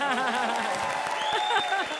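A studio audience at a Hindi TV comedy show applauds, with dense clapping under upbeat music and a cheering crowd, sustained for about two seconds.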